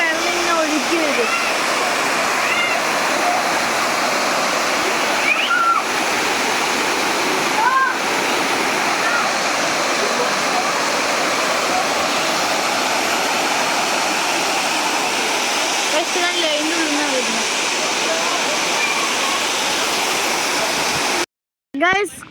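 Water pours continuously through a fountain at Oxygen Park, Qatar, a constant close rushing splash under intermittent talk, ending in a brief cut near the finish.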